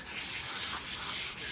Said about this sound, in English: So it's got some 220 fine sandpaper and this 3M block